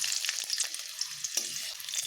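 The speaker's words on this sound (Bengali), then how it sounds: "তেল গরম হয়ে গেছে আমি দুটো কাঁচা লঙ্কা ও গোটা গরম মশলা ফোড়ন দিলাম" Two green chillies and whole garam masala fry in hot oil in a kadai, giving a steady, fairly soft sizzle with small pops and spits scattered throughout.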